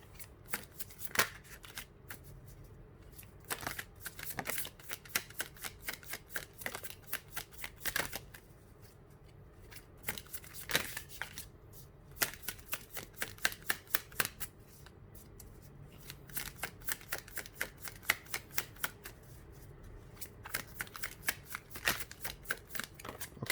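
Tarot cards are shuffled by hand in rapid riffling bursts of crisp flicks and snaps, close and fairly quiet, repeating in clusters with short pauses between.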